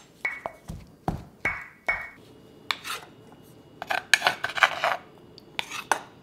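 A wooden spoon pushes chestnut through a coarse wire strainer, giving close, uneven scraping rasps and clinks against the metal mesh in short bursts, with no talking.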